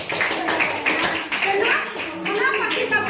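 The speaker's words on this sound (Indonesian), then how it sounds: "Tepuk tangan dulu." Schoolchildren in a classroom clap their hands in quick bursts while children's voices and chatter mix in close by.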